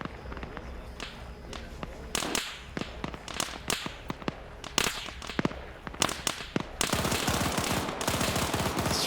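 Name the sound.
gunfire in the video game Arma 3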